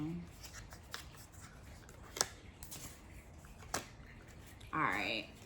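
Tarot cards shuffled and pulled by hand, with soft rubbing and scattered crisp card snaps heard faintly and close up, ending in a brief riffle.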